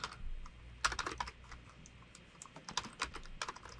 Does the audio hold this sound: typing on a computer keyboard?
yes